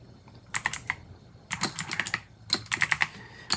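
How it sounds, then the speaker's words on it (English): Close, crisp keystrokes on a computer keyboard come in three quick bursts as a chat message is typed, with short pauses between them. "you would just type something personal to them"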